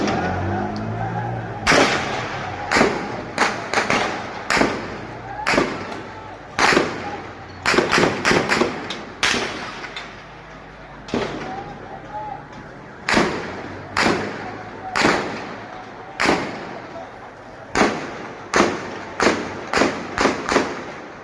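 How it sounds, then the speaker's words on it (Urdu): Repeated sharp bangs of gunfire and exploding shells at a protest in Pakistan ring out in irregular bursts, some rapid and clustered, others spaced apart, loud and echoing over a low background murmur. "یہ بالکل آج ریلے شیل مار رہے ہیں بھائی، ہاتھوں میں پھٹ بھی رہے ہیں، یہ فائرنگ بھی ہو رہی ہے"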